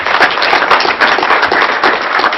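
Audience applause for classroom teachers during a keynote on technology and learning, a dense, steady wash of many hands clapping that holds loud and continuous from start to finish.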